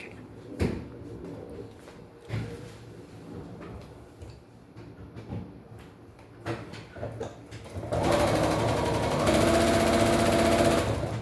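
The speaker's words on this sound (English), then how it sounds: "I'm just going to take this and sew along this line to attach the A4 piece" A sewing machine stitches fabric along a line to attach a piece in foundation paper piecing, starting quietly with small handling clicks, then running as a steady, loud, continuous whir for the final few seconds.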